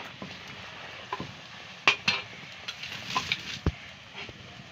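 Luchi puffing in hot oil sizzles softly beneath a few sharp scraping stirs and metallic clinks of a utensil against the pan, close up, with no voices.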